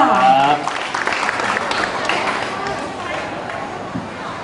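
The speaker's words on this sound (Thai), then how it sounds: "ขอเสียงปรบมือสักนิดนึงกับการแสดงชุดนี้ค่ะ" An audience applauds a dance performance at a cultural event, moderate, steady clapping that begins after a brief voice and continues with some crowd murmur.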